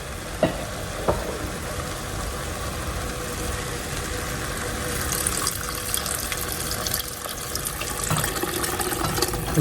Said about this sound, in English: And now we're going to add in our beef broth.